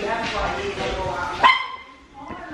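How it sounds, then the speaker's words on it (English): A dog indoors at a family New Year gathering gives a short yip and a bark, close by. People talk over it. "That's my uncle's doggy."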